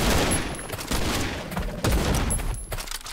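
Loud bursts of M7 rifle fire from Last Island of Survival come in several quick volleys about a second apart, each a dense rattle of shots while fighting zombies.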